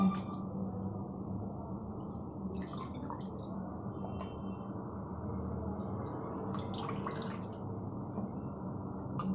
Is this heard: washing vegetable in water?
yes